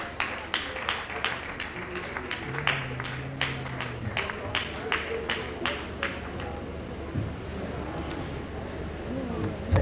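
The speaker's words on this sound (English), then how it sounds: "Please, a round of applause for her," An audience at a university College of Education conference claps in scattered, sharp bursts that thin out toward the end, with a voice speaking over the applause.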